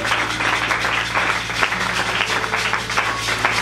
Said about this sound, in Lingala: Acclamez pour le roi du roi.